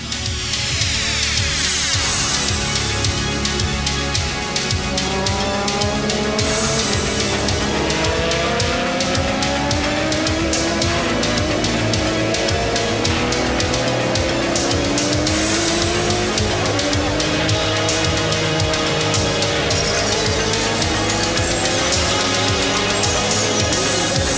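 A GTP prototype race car thunders around the track, a loud, sustained engine roar with rising and falling revs through gear changes, continuous and close for the whole stretch.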